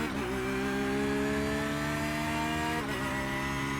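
A Porsche GT3R race car engine in the iRacing sim revs hard through rising gears, a steady loud drone with a brief dip near the end as it shifts and pulls onto a straight.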